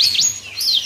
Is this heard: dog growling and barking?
no